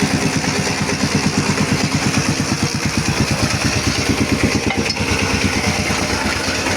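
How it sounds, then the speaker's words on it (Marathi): A land levelling machine works a plot, its engine chugging steadily with an even, rapid pulsing throb that holds loud and close throughout. "तिकडं आणली आहे प्लेन करायची मशीन"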